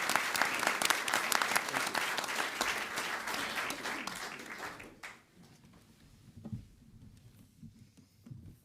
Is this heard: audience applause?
yes